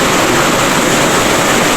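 A river stream rushes loudly and steadily, a dense, close hiss of flowing water with no pauses and no voices.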